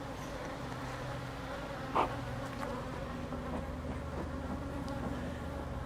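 Honey bees buzz steadily around an open beehive on a cloudy day, a soft continuous drone heard close and alone, with one brief louder buzz as a bee passes near.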